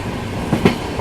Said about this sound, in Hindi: सनराइज यहाँ पे बहुत सुंदर होता हुआ बिहार में अपनी बिहार संपर्क क्रांति चल रही है